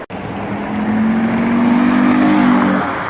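A 2013 Chevrolet Camaro RS, fifth generation, fitted with an aftermarket eBay air intake, drives past close by, its engine note rising and swelling loud for a few seconds before easing off.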